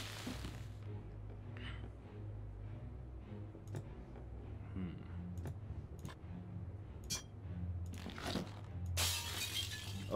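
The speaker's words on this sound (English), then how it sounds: "You rear back and strike the mirror with the hammer." Mirror glass shatters when struck with a hammer in the Shadowgate video game, a loud bright crash near the end that follows sparse clicks over a low steady background hum.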